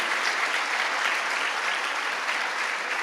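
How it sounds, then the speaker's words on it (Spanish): A church congregation applauds together during a worship service, a steady, dense wash of clapping that holds evenly for the whole stretch with no voices on top. "Quiero que al Señor le dé un fuerte aplauso de gloria"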